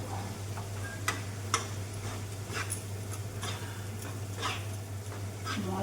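A spice mix fries in oil for a vegetarian potato and cauliflower curry, giving a faint, steady sizzle with scattered clicks of stirring over a constant low hum, with no talking.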